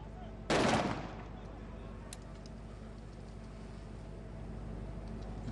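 A single sharp sniper rifle shot cracks loudly at a SWAT team challenge, followed by a fading echo and a low ambient hum, with faint ticks afterward.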